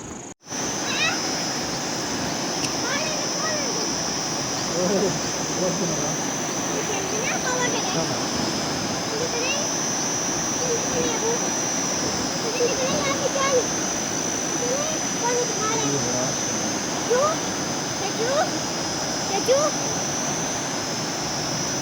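Floodwater rushes down the Soan river in a broad, steady roar that stays loud and constant throughout, with voices of onlookers talking over it.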